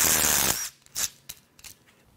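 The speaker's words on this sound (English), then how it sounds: "And now we can unbolt the valve cover." A power tool whirs briefly on a valve cover bolt of a Ford F-150 2.7L EcoBoost V6 during teardown, followed by several short metallic clicks and rattles close by.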